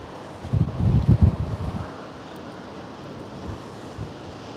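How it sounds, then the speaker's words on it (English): Evening wind on the Blackpool seafront beside a stormy sea: a heavy, buffeting gust rumbles for the first two seconds, then settles into a steady, softer rush. "it's pretty windy in Blackpool this evening"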